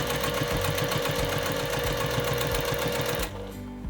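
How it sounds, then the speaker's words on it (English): Sewing machine stitching down the tail of a hobo bag along a curve, a continuous close motor hum with rapid rhythmic needle clatter for about three seconds before stopping abruptly. "then we are going to sew it down"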